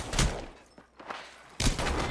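Gunfire in the shooter game Apex Legends: a heavy burst of shots up front, a lull with a few scattered single shots, then another loud sustained volley near the end.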